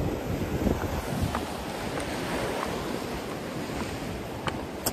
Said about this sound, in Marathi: पाण्याचा आवाज येतोय का?